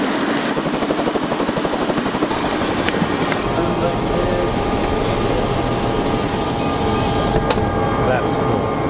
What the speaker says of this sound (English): as we jump back into the helicopter now, enjoy the beautiful visuals of flying from the top of Coronet Peak all the way back down to Queenstown Airport again